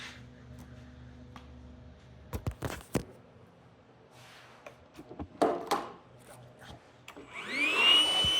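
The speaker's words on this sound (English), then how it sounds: "So I'm just going to take this vacuum here." A vacuum cleaner cleans a removed filter on a Sabre, starting with a low hum, then sharp knocks and clatter as the nozzle works over it, before the motor swells into a louder whine at the end.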